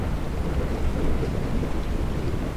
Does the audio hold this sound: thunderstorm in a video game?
yes